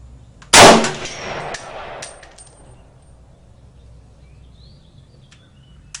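A single sharp shot from a Century Arms CETME rifle fired slowly outdoors, one loud close crack with a short echoing tail, then quiet with faint background noise and light mechanical clinks.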